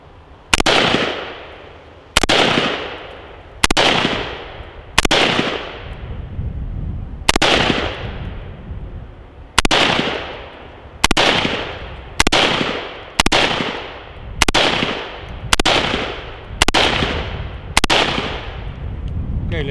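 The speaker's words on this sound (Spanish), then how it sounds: "le voy a efectuar 30 disparos" Thirteen sharp gunshots fired at a level 3 body armor vest or plate ring out one after another at fairly even intervals, each a loud crack with a short ringing decay, no talking in between.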